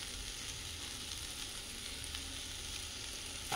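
Lemon rice sizzles in a hot pan as it is stirred, giving a steady, close frying hiss with faint scraping throughout and no talking.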